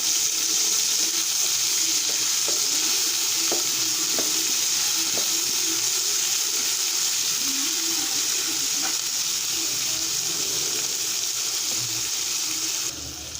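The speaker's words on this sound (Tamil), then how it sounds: "இது கொஞ்ச நேரம் வதங்கட்டும்." Vegetables for an Onam coottu curry sauté in a pan, giving a steady, continuous sizzle and frying hiss with occasional soft stirring clinks, close and even throughout with no talk.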